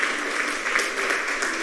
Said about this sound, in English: We do have applause we can give you